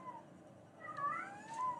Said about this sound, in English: My cat is going crazy in the background.